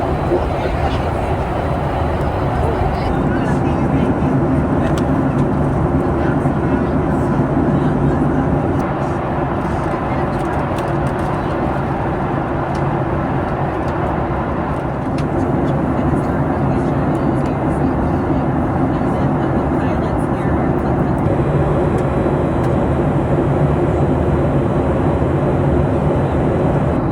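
Steady, loud broadband roar inside a Southwest Airlines Boeing cabin during initial descent into Nashville, a continuous engine and airflow drone with a low rumble that holds nearly constant throughout.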